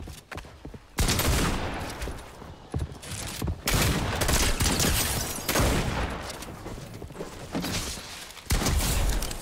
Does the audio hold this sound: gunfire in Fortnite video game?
yes